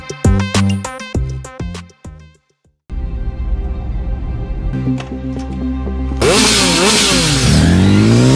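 A motorcycle engine revs up hard and loud in an insurance commercial, its rising whine sweeping upward near the end after a burst of plucked music and a brief pause.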